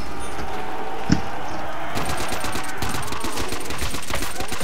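Automatic gunfire in World at War Zombies, one sharp shot and then a rapid sustained burst of loud rattling fire that runs to the end, close and dense.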